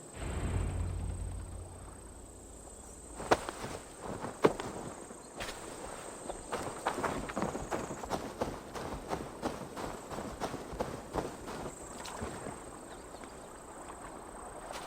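Horse hooves clip-clop at a steady, plodding walk in Assassin's Creed Valhalla, moderately close under a constant low ambient bed, with a couple of sharper knocks partway through.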